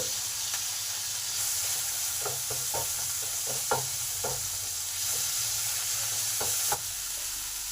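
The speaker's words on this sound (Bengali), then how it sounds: "এই টমেটোর মধ্যে সমস্ত কিছু মশলা দিয়ে দিলাম ভালো করে কষার জন্য" Tomato with ground coriander, turmeric, cumin and chilli powder sizzling in a hot pan for doi begun, a steady close frying hiss broken by scattered stirring knocks throughout.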